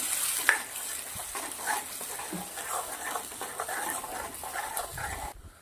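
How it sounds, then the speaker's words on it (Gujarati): Garlic paste and green peas for matar paneer sautéing in a pan with steady frying sizzle and intermittent stirring scrapes, close and moderately loud, with no talking. "હવે પેસ્ટને આના અંદર સાતરવાની છે 5 મિનિટ સુધી."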